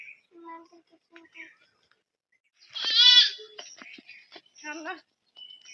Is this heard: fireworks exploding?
no